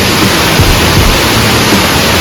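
A waterfall at a scenic lookout fills the air with a steady, dense roar of rushing water that holds an even loudness throughout, with no voices heard over it.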